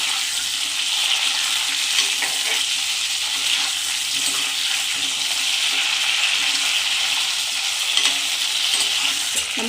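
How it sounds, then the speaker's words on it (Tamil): Brinjal kuzhambu sizzles steadily in oil in a pan while being stirred, a continuous bright frying hiss with faint scraping of the spoon, no voices. "இதை நம்ம லைட்டாக அப்படி கிண்டி வச்சுக்கலாம்."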